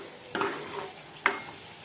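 A spiced sponge gourd curry gets stirred in a pan, with two soft scraping strokes over a low sizzle, close and on its own.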